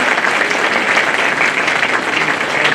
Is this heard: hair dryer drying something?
no